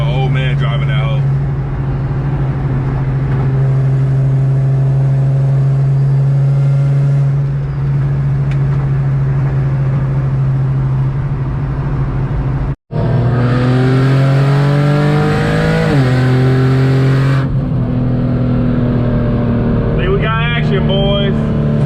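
A turbocharged Infiniti G37 sedan running low boost revs hard under acceleration, its loud engine droning steadily, then rising through the gears in climbing pulls after a brief cut, with talk over the noise.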